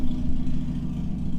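A car's exhaust runs steadily nearby, a low droning idle with a faint clattery texture that holds an even level from start to finish, with no voices over it.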